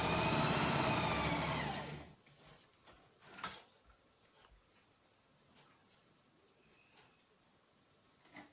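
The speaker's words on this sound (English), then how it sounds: "I'll sew round." A home sewing machine runs in a steady, fast mechanical whir while stitching closed a 3-inch fabric circle for a reversible hair bonnet, loud for about two seconds before stopping, with a few faint clicks and handling noises afterward.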